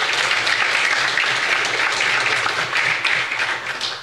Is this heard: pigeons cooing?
no